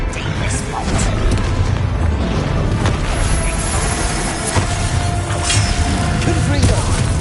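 Confringo blasting spells explode during a fight in the video game Hogwarts Legacy. Dense, booming blasts and rumbling impacts run continuously and loudly under shouted character voices and game music.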